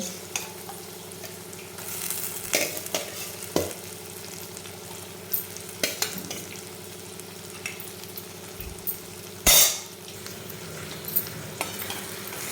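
Mutton tipped into a masala frying in oil, with steady sizzling, occasional stirring scrapes and one sharp clatter near the end, close and without talk.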